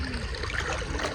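Rainwater runs through a flooded farm field with a steady, close rushing and trickling wash and no voices.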